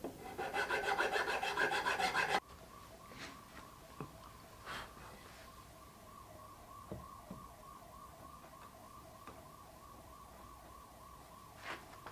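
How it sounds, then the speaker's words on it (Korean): Wood being filed to fit the front leg joint of a handmade Maloof-style rocking chair: about two seconds of close, steady rasping strokes, then the filing stops and leaves faint background noise with a thin distant siren. "조금씩 갈아서 점점 맞아 들어가게 만들 거예요."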